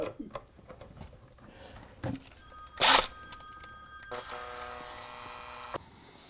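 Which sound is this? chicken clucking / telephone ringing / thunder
telephone ringing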